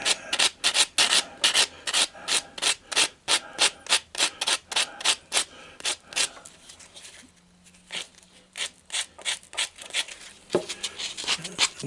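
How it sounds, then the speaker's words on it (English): Fine sandpaper rubs a scrap copper ring in rapid, rhythmic back-and-forth strokes, close and crisp, with a brief pause partway through before the steady scraping resumes. "I may have to get me some fine sanding paper or something"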